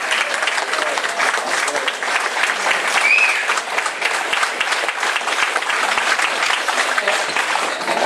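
A rousing round of applause from an audience at a New Hampshire taxpayers' coalition event, dense sustained clapping close and loud throughout, with crowd noise mixed in.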